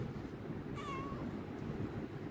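A Himalayan cat lets out a single short meow for food, fairly faint against a steady low background hum.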